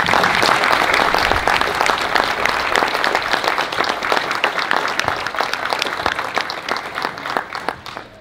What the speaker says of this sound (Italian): per i quali chiederei un applauso